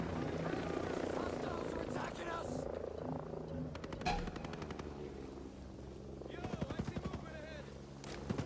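A helicopter thumps steadily in the tactical shooter Ghost Recon Breakpoint during multiplayer, its rotor pulse under bursts of gunfire and rapid clattering, with players talking over it.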